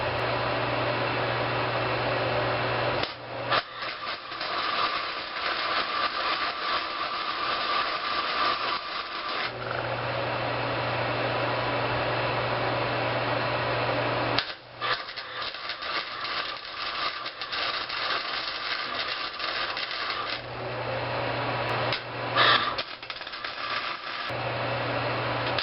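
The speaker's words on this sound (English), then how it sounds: "So, let's get welding." Welding on the frame of a homemade two-seater go-kart, with a steady crackling buzz in several long passes broken by short pauses, close and fairly loud, with no talking.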